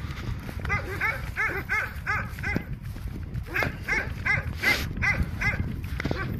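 A dog barks repeatedly in a fast, irregular series of sharp yaps with a few whimpery notes mixed in, moderately close, over a steady background rumble, with faint voices underneath.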